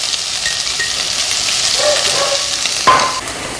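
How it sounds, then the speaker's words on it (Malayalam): Onion sautéed in a pan with a pinch of salt, giving a close, steady sizzle with stirring scrapes and a sharp utensil clink near the end. "എന്നിട്ട് നമുക്ക് ഇത് ഇതിനകത്തേക്ക് ഇട്ട് വഴറ്റിയെടുക്കാം."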